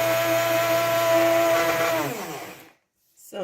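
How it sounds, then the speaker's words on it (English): A small kitchen blender whirs steadily as it blends gel, a loud sustained motor hum that winds down and stops, followed by a short clatter. "now I have it in my little blender here"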